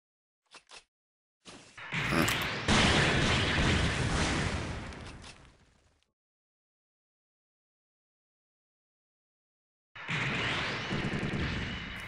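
Homing missiles firing in the SD Gundam Online game from a Gundam Double X with G-Falcon, a few sharp clicks followed by a long roaring burst of launches and blasts, silence, then another roaring burst.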